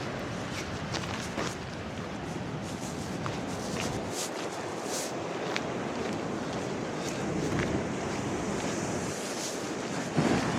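Rough sea waves surge and wash onto a beach after storms, a continuous roar of surf mixed with gusting wind buffeting the microphone, with a few faint footstep-like crunches.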